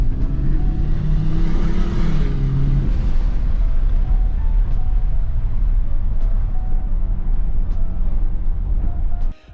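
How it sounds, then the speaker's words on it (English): A Ford XR6T idles steadily while warming up, a continuous low engine rumble with a brief rise in pitch near the start, then an even drone that cuts off at the end. "I'll wait for the car to warm up and then we'll go for a little drive."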